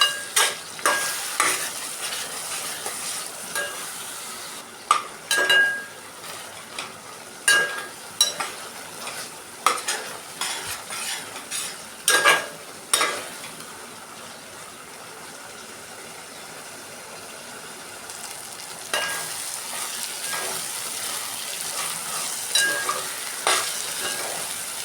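Curry with tomatoes frying in oil in a pan, a steady sizzle broken by repeated sharp scrapes and clacks of a spoon stirring through it, close and fairly loud, with no talking.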